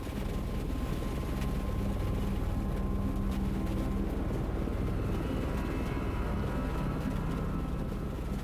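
A helicopter flies through a storm on a mountain rescue mission in the Everest region, its rotor and engine roar loud, steady and unbroken throughout.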